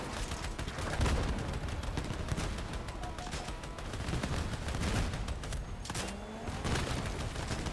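Vehicle-mounted weapons fire in the combat game Crossout, dense continuous gunfire and booms rolling on throughout, fairly quiet and steady.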